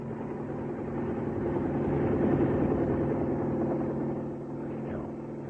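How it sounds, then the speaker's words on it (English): Helicopter in a radio drama scene, heard as a continuous low rumbling drone that swells toward the middle and eases off near the end, alone with no voices. "Wait. Do you hear that? It's a helicopter."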